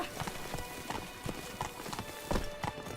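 Hooves of Roach, Geralt's horse in The Witcher video game, clip-clop in a steady walking rhythm on hard ground, close and clear over a soft ambient bed.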